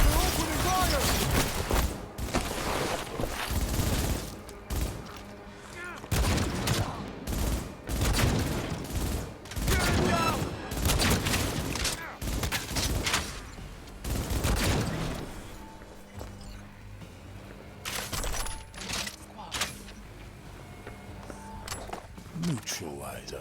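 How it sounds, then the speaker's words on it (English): Gunfire rattles through a Cyberpunk 2077 firefight in an Arasaka corporate setting, with dense bursts of shots and loud impacts coming in clusters across the scene, mixed with voices talking and shouting over the action. "They're opening fire!"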